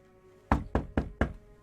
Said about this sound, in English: there's a hammering on the door as Marshall unlocks the door and opens it